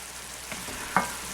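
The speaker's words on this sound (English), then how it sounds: "All we're doing right now is just boiling the onion" Chopped onion boiling in water in a pan for onion sauce gives off a steady, close bubbling sizzle with one brief louder pop near the end, and no voices over it.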